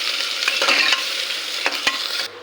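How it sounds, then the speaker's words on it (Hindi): Chopped onions sizzle steadily in hot mustard oil for a ghiya and chana dal dish, with a few sharp spoon scrapes from stirring cutting through the constant close frying hiss. "तब हम इसमें डालेंगे कटी हुई प्याज और इसको अच्छे से चलाते हुए हम भून लेंगे"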